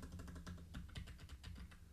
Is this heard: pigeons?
no